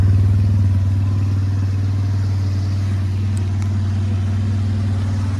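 An ATV engine idles loud and close with a steady low rumble and a fast, even throb that holds for the whole stretch, with no voices.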